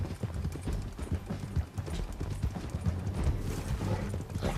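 Horse hooves clip-clop in a steady, fairly quick rhythm in the video game Red Dead Redemption, with a soft whinny and faint background noise.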